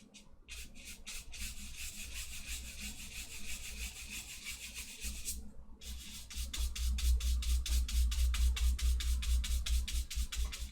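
Hand rubbing paint into a surface on a Beetlejuice-inspired piece, a steady close scratchy friction with a rhythmic back-and-forth stroke that quickens and grows louder in the second half, with no talking.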